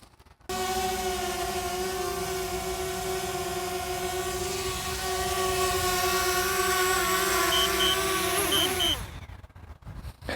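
A DJI Spark mini drone flies nearby with a steady, high multi-tone propeller whine that holds for several seconds, then sags in pitch and cuts off as it comes down to land.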